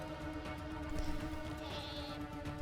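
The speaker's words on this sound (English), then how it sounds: "Did you see that sheep with its mouth open?" A sheep bleats in a game trailer shown at Gamescom 2023, a sustained, tonal cry carried over a steady bed of trailer sound at moderate loudness.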